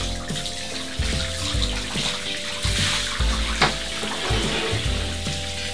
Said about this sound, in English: I leave the water running